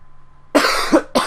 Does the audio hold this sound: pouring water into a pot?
no